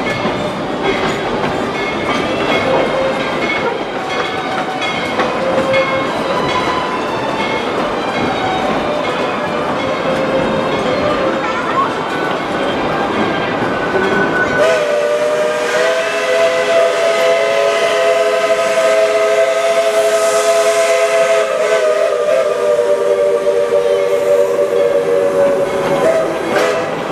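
A Tweetsie Railroad heritage steam train rumbles and chuffs steadily, then a loud, sustained multi-tone steam whistle sounds for over ten seconds, close and dominant.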